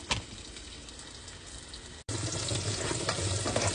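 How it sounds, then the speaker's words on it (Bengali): Onions frying in oil in a pan, a continuous close sizzle broken by a momentary gap, then resuming slightly fuller and louder. "পেঁয়াজটা আরেকটু ভাজা ভাজা হবে"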